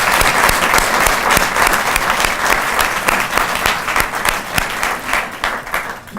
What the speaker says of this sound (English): hopefully everyone can join me in a round of applause to officially welcome Teresa and Leo into their new roles